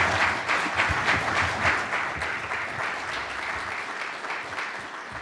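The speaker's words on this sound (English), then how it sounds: "please give them a round of applause or something for them" Audience at a FirstNet ten-year anniversary celebration applauds the panel, a sustained, even roar of many hands clapping with no talk over it.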